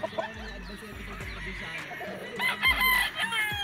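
A sweater gamecock rooster crows at a gamefarm, a loud nearby call with rising and falling strained tones, with other birds and faint background noise around it.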